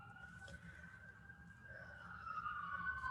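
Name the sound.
sirens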